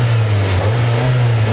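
A Toyota RAV4's simple single-cam engine with a cable throttle revs hard, its loose, barely attached exhaust giving a loud, raw, steady drone close by.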